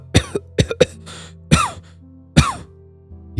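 A person coughs several times in close, harsh bursts, some short and some drawn out, with breathy pauses between.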